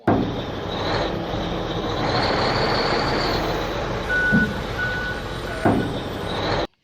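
A toy truck backs up, its reversing alarm beeping in a steady slow series over a constant mechanical whir and hum, fairly close and loud, with no voices during the beeps.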